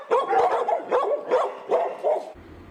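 Several dogs bark and yip at an animal shelter in Sioux City, a loud close burst of repeated barks in an uneven rhythm, with no voices over them.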